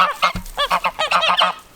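A guard goose on a farm honks in a rapid series of close, loud nasal calls, about a dozen in under two seconds, with no talking.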